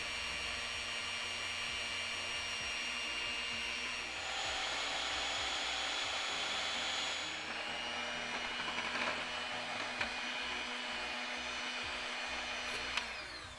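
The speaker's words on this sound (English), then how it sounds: "we're gonna beat the egg whites with a handheld mixture until we have a stiff peak" Handheld electric mixer whipping egg whites to stiff peaks in a bowl for Italian tiramisu, a steady whirring motor hum running continuously with slight shifts in pitch and a couple of small clicks, close and alone.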